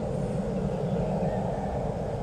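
Airplane engines at takeoff, heard as a steady, fairly faint broadband roar and low rumble from a distance, continuous throughout without clear peaks.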